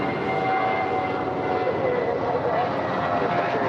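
An airliner taking off from runway 25 right at LAX, a steady loud jet engine roar with tonal whine, accompanied by air traffic control radio chatter.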